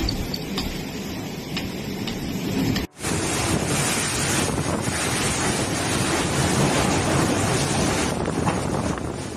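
Typhoon Julian's winds in the Philippines batter the microphone with a loud, continuous roar and rushing gusts, broken by one brief cut.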